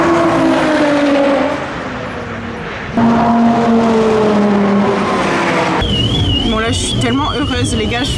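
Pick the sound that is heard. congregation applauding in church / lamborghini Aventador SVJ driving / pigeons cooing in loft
lamborghini Aventador SVJ driving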